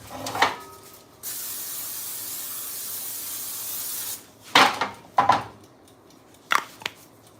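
A steady hissing spray runs for about three seconds, framed by a few clattering knocks of cookware before and after.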